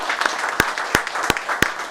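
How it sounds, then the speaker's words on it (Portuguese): A round of applause at a municipal council session in Osasco, a crowd clapping steadily with a few sharp, loud individual claps standing out up close, a faint murmur of voices underneath. "eu queria uma salva de palmas a todos os emancipadores"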